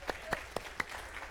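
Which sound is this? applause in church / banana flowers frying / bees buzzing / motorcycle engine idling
applause in church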